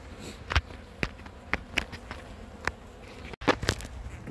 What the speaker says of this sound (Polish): Pszczoły tutaj widać.